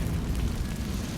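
Spell explosions of Bombarda and Confringo in Hogwarts Legacy, a short, fairly faint low rumbling burst with no talking over it.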